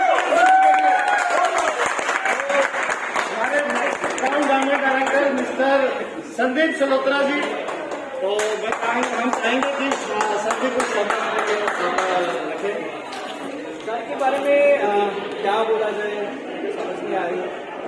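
Loud applause rolls through the hall at a car achiever recognition event, dense and sustained clapping with cheering voices and some talk mixed in throughout.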